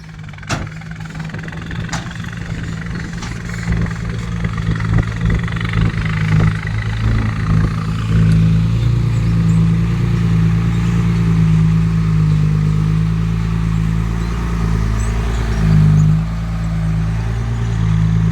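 Tractor engine running steadily at close range for the whole stretch, a continuous low diesel drone with a slight rise in intensity partway through, with no talk over it.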